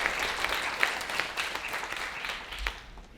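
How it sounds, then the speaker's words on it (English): Lecture audience applauding, a dense wash of many hands clapping at moderate distance that fades toward the end. "Please give him a round of applause."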